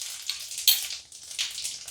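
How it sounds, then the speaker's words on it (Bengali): Five-spice mix crackling in hot mustard oil, a bright hissing sizzle with small pops and a sharp spatter near the middle, close and fairly loud with no voices. "তেলটা গরম হয়ে গেলে আমি এর মধ্যে 1 টেবিল চামচ পরিমাণ 5 ফোড়ন দিয়ে দিচ্ছি।"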